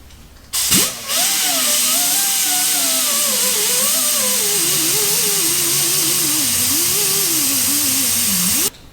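A power tool cleans up the frame rails of a Chevy Nova ahead of welding during a shock relocation. It gives a steady, loud mechanical whine for about eight seconds, its pitch wandering up and down as the load changes, with no talk.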